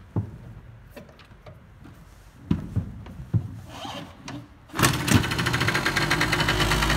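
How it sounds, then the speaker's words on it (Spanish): A Yamaha LB50 Chappy moped being kick-started: a few scattered knocks and clunks from the pedal, then the small engine catches and settles into a steady, fairly loud idle for the last couple of seconds. "Tiramos con el aire y tiene arranque a pedal."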